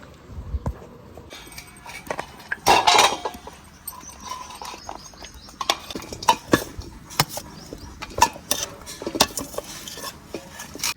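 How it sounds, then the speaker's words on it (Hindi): Metal cooking pots and utensils are handled for making beef karahi outdoors in a village kitchen, with irregular clanks, scrapes and knocks, one louder cluster of clatter early on, and no talking. "बर्तन जो बीफ बनाने वाला है वो भी उठाते हैं"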